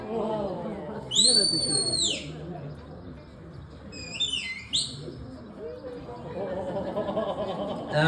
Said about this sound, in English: So that first whistle that I've blown, that one long continuous whistle.